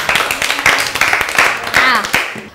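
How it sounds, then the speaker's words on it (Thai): A primary-school class claps for a pretend television programme, a rapid uneven patter of many small hands, close and fairly loud, with children's voices mixed in. "ปรบมือให้รายการแพ้ๆหน่อย"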